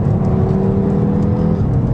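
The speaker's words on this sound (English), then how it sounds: "it's the engine that really dominates the driving experience and makes you want to keep driving it as fast as possible" A fast Audi engine hums steadily under load while driving, a continuous loud low drone with a faint whirring layer and no change in pitch across the short span.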